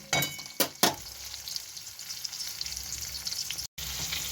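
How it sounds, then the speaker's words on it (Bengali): Soft sizzling of onion and tomato frying in a pan with a few sharp clinks of a utensil near the start, then steady frying noise; no voices. "প্রথমে পেঁয়াজ আর টমেটোটাকে একটুখানি ভেজে আনছি"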